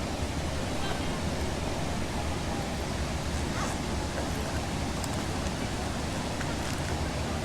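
Waterfall beside a wild camp in the Peak District, a constant dense roar of rushing water, loud and unbroken throughout with no other sounds standing out.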